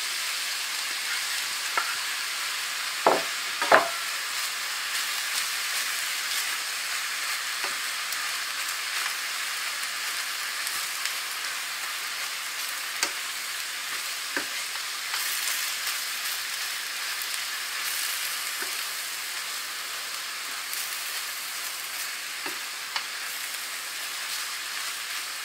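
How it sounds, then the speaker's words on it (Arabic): Spinach sautés in olive oil, a steady crackling sizzle throughout, broken by a few sharp clicks and taps as it is stirred, with no voices. "دابا غادي نخلط عليها هذيك الزيتينة ونخليها تشحر شوية."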